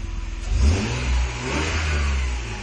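A warm Nissan Skyline engine revs up and holds a steady, throaty drone nearby, with no voices over it.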